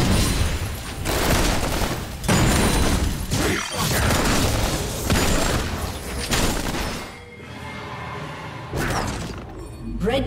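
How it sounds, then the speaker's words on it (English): Explosive crashes and heavy gunfire-like bursts in a League of Legends match around a turret being destroyed, loud and dense, with a short quieter stretch before more impacts. "Red team's turret has been destroyed."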